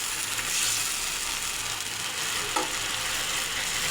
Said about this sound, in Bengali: দিয়ে আলুটাকে ভালো করে কষিয়ে নেব